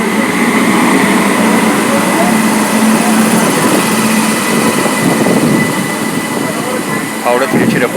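An Indian Railways express train hauled by a WAP7 electric locomotive gives a loud, steady, continuous roar and hum throughout, close and unbroken.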